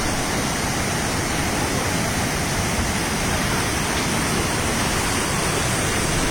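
A river flooded and overflowing in Acoyapa, Chontales, Nicaragua during Storm Julia gives off a loud, dense, unbroken roar of rushing water that stays steady throughout. No one talks over it.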